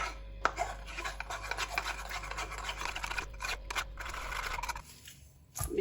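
Hands knead and mix flour dough, giving soft, steady rubbing and rasping strokes up close, with a brief pause near the end and no speech.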